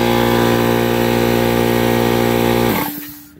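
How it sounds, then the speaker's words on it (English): An air compressor runs loud and steady with a dense, even mechanical drone, then winds down and cuts off near the end, leaving a fading hum. "the compressor just kicked in"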